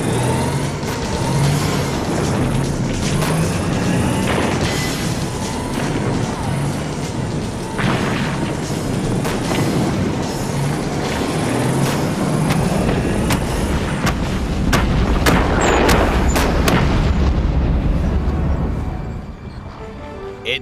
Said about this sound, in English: The Scimitars and Scorpions embarked on what is known as a noisy attack, revving their engines and firing their cannons